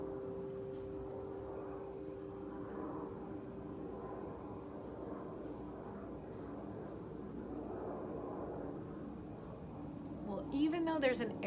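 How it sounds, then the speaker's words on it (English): A faint, low airplane drone hangs in the distance beneath quiet outdoor ambience, with a brief clatter of nearby noise near the end. "there's an airplane going over a little, I can kind of hear the airplane"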